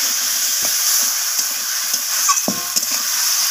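Spice paste with ginger paste frying in a pan for a Bengali surmai fish curry, hissing and sizzling steadily after a splash of water, with a few soft stirring clicks and scrapes close by.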